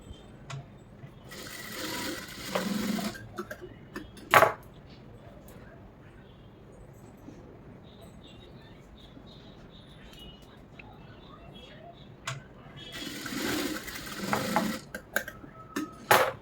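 A sewing machine joins blouse lining pieces with two short bursts of whirring stitching, one early and one late, separated by a quieter stretch with a single sharp knock.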